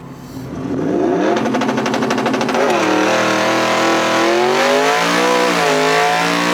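A 1200hp twin-turbo Ford F-150 revs hard and accelerates on the street, a loud rising engine roar that climbs, dips briefly at a gear change, then pulls up again close by.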